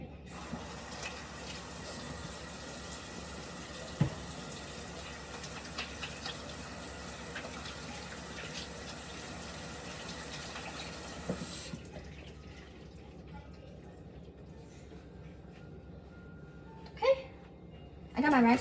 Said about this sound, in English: but first wash your hands.